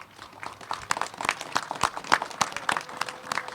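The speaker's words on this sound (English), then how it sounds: "Jim Haley deserves one big round of applause from everybody" An outdoor crowd at an Irish flag raising ceremony in Lowell claps in a scattered, moderately loud round of applause, individual claps distinct and uneven throughout.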